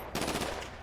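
Gunfire in GTA 5 during a gang shootout over a stolen bike: a sustained close burst of rapid shots lasting most of the moment, loud and alone with no talk.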